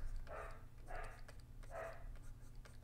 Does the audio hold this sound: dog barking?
yes